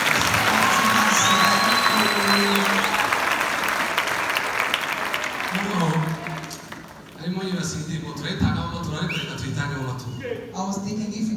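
Congregation applauding in a church during an Easter service, dense clapping and crowd noise filling the first half, then thinning into scattered claps mixed with voices and music-like tones.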